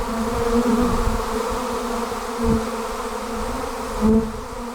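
A good-sized swarm of honey bees drones loudly and continuously close by, with a steady humming buzz and occasional louder passes as single bees fly near, and no one speaks.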